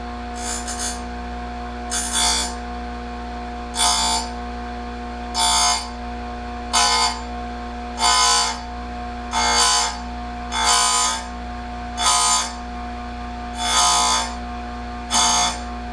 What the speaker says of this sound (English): Got the machine turned on, and we'll grind this first tooth just a little bit.